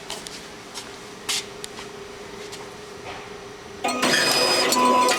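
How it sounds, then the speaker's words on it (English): RYO EZ-Fill tobacco filling machine starting up, a quiet hum with a few clicks before a loud continuous mechanical whir and rattle kicks in and keeps running. "I'm gonna push the start button, and you're gonna see the machine in production."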